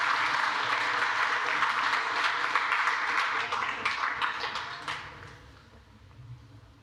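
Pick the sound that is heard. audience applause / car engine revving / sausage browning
audience applause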